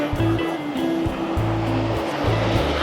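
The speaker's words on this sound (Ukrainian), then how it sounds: "ось такий порог. Стікає вода" Water spilling over a weir step on a river in Prague, a steady broadband rush that stays close and constant throughout, with low rumbling pulses beneath it and no voices.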